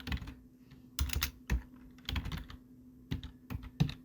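Quick bursts of clicky keystrokes on a computer keyboard while entering text into an Excel spreadsheet, arriving in short irregular clusters separated by brief pauses, close and fairly quiet with no voices.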